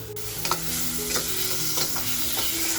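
Chopped tomatoes fry into masala in a pan for kharda anda masala, a dense, loud, continuous sizzle with a spatula scraping and stirring through it in several distinct strokes.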